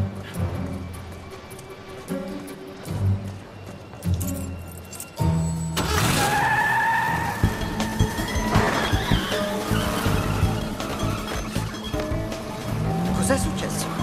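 A stolen car drives off in a scene from the crime drama Castle, its tires skidding with a loud burst of engine and tire noise partway through, mixed under ongoing speech and background sound.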